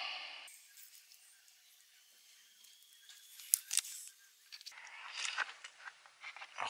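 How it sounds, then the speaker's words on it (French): Scissors snip through butyl tape in short, quiet cuts with small clicks, set against near silence during a DIY camper van skylight repair. "Moi j'ai préféré la couper en deux dans le sens de la longueur, avec une paire de ciseaux."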